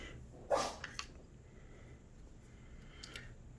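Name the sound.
dog sneezing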